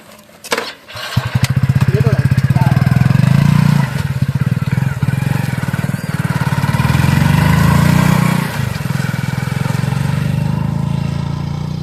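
A motorcycle engine sputters briefly and then runs steadily and loudly at close range, with a mid-pitched drone and a few shifts in revs. Voices talk over it.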